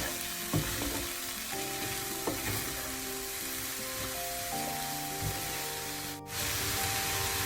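Banana flower and tuna sauté on medium heat in a pan, a steady, fairly loud frying sizzle and hiss with a few soft stirring taps. A brief dip near the end breaks the noise before the sizzle resumes.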